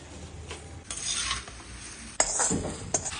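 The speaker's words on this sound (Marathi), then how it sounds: "फोडणी पोह्यात मिक्स करायची" A spoon stirs and scrapes a spiced tempering through thin poha chivda in a pan. There are a few close, rasping stirring strokes with a light clink of metal and no talk.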